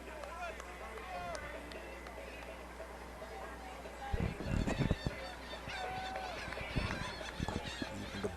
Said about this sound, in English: Even the birds are making their presence felt.